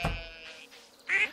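A cartoonish duck quack from the farm of the video game Stardew Valley sounds once, brief and bright, after a soft thump and a faint tone.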